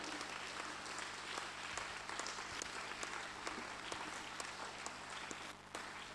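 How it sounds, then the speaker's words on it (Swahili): A church congregation claps together in sustained applause, a faint, continuous patter of many hands with no clear voices over it. "Pigie Bwana Yesu makofi kwa watu mahodari na mashujaa."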